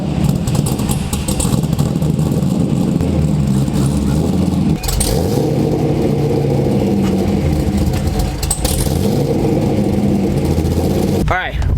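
A cammed Chevrolet Corvette V8 fires on a cold start and settles into a loud, loping high idle with a choppy rumble, carrying on steadily at close range.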